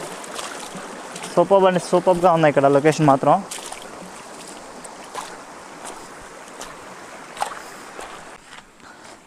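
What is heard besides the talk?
flowing water at Rapur Waterfalls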